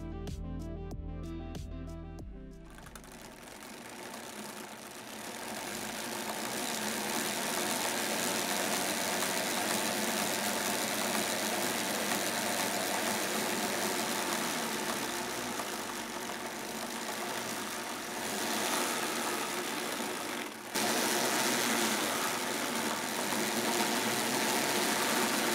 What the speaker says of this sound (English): it was time to hook up the motors to a DC power supply for a test run